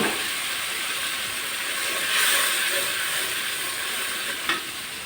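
Koi fish curry with a splash of water fries and steams in a pan, giving a steady close hiss and sizzle with a brief louder surge midway and a quick clink of stirring near the end.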